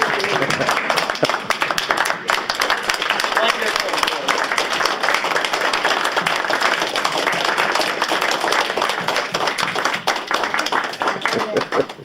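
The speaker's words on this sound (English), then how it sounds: "we should give him a round of applause and a standing ovation" Audience applause and a standing ovation after a World War II storytelling talk: dense, sustained clapping fills the room for the full stretch, with voices talking over it.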